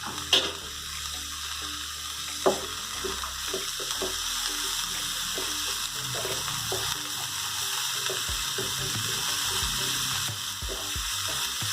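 Boiled, chopped cabbage fries in a pan with a continuous crackling sizzle, broken by occasional stirring knocks and scrapes of a spoon against the pan.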